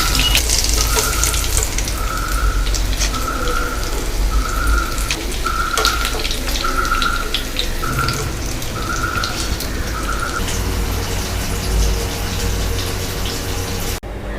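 Vanjaram (seer fish) fried in hot oil crackles and bubbles steadily up close, while a repeating electronic beep pulses through the first ten seconds.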